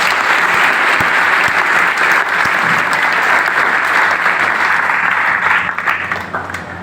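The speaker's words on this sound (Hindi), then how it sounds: "एक बार जोरदार तालियां बजा दो।" Loud, sustained audience applause fills a coaching-centre ceremony honouring a new NDA officer, dense clapping throughout that thins slightly near the end.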